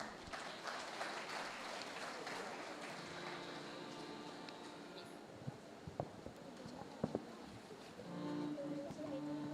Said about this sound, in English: A loud applause for them, please.